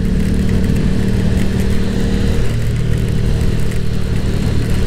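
A KTM 1190 RC8 R sport motorcycle runs on a rainy road, its engine a steady, loud, close drone that holds even throughout with no voices over it.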